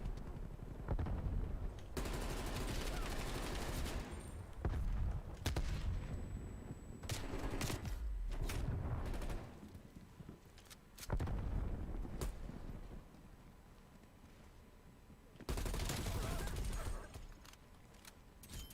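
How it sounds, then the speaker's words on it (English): Grenade blasts and rapid gunfire from a first-person shooter video game, loud bursts of automatic fire and explosions recurring through the clip, with brief quieter gaps between volleys. "Throwing frag grenade. Grenade out."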